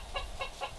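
Pet hen named Sanchez at an animal sanctuary, clucking in three short, evenly spaced bursts, close and moderately loud over faint background.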